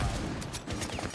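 Gunfire in a ranked Rainbow Six Siege match comes as several quick, sharp bursts in a rapid cluster, fairly quiet and close together.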